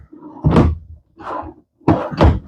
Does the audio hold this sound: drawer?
yes